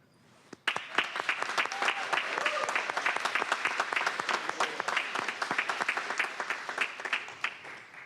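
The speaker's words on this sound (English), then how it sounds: "one last round of applause for all those that have been sober for whatever" An audience at a public safety committee meeting applauds people in recovery, a burst of clapping that starts abruptly and stays steady and moderately loud for several seconds, with individual claps distinct within the crowd.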